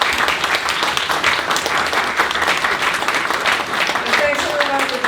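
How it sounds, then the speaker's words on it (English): Audience applauding panelists at a community arts-and-healing session in Akron, a dense, steady burst of many hands clapping throughout, fairly loud and close, with some voices mixed into the crowd noise. "Please, a round of applause for our panelists"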